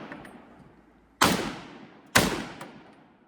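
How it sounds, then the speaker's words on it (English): A BAR rifle fired from the shoulder lets off two loud, sharp reports about a second apart, each trailing off into a long echoing decay outdoors. "Let's try a little shoulder fire."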